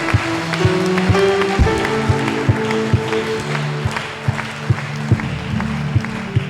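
A church congregation at a baptism applauds the baptized children with sustained clapping and some sharper individual claps, while singing or humming runs underneath.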